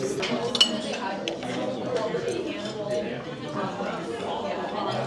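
Utensils clink and scrape against a dish as kinilaw is stirred, light metallic taps under steady chatter in a busy room.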